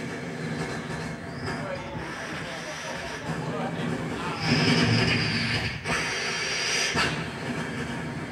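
A voice imitates a modern train before a live audience, a continuous hissing, rumbling whoosh with squealing, screeching swells near the middle and end.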